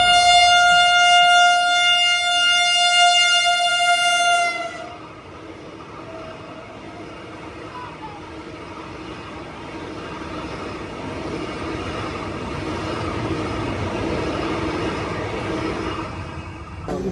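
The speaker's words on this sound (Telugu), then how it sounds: "శ్రీనగర్ నుంచి కట్రా వెళ్ళే Vande Bharat express cross over అయితే అవుద్ది ఇప్పుడు" A Vande Bharat Express on the Srinagar–Katra route, a loud sustained two-tone horn blast up close, followed by a long rushing roar of the train passing, with no talking.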